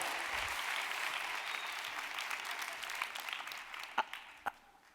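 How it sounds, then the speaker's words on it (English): A crowd applauds steadily, a broad wash of clapping that slowly fades, with a few sharp claps standing out near the end. "Give yourself a round of applause, guys"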